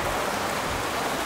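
Rain pours steadily at the Bacong cattle stockyard, a brief, uniform wash of drops hitting surfaces with no voices.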